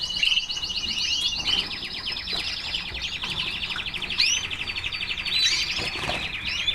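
Several canaries sing together in a breeding room, rapid trilling rolls and sharp chirps overlapping continuously, fairly close and lively with no talking.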